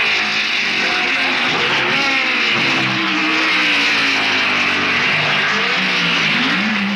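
Loud 1960s racing cars battle for the lead on a hot track, their engines snarling and rising and falling in pitch as they pass close by with no talk.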